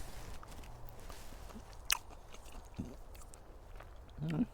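Someone bites into a cherry picked from a raised bed in a food forest, giving a faint crunch followed by quiet, close chewing amid soft outdoor background noise.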